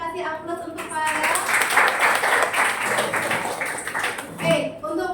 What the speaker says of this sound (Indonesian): Boleh kita kasih aplaus untuk Farel.